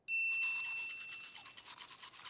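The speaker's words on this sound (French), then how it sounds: "Et maintenant, on se brosse les dents pendant 2 minutes." A toothbrush scrubs teeth in quick, rhythmic strokes, a steady run of soft bristly swishes heard close with no talking.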